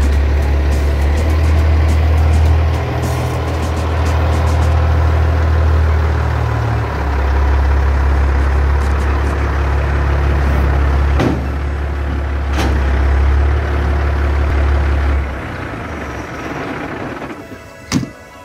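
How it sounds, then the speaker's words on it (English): Diesel truck engine idling and revving loudly nearby while hooking up a flatbed trailer, a steady low rumble that shifts in pitch, with a sharp hiss of air near the end and no speech. "let's get to hooking up this trailer"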